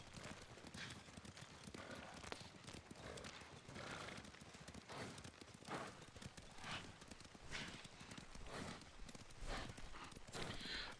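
A horse's hooves clip-clop at a steady, even gallop in the video game Ghost of Tsushima, loud and close throughout with a dense rhythmic beat and occasional snorts.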